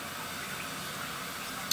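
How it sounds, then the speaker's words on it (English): Warm water runs steadily from a tap to wet a rag at a sink, a continuous soft hiss and splash throughout with no talking. "And then I'm gonna wet it with some warm or hot water."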